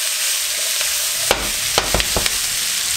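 Potatoes, salami and peppers being tossed in a hot frying pan, with a steady high sizzle throughout and several short scraping, clattering stirs partway through.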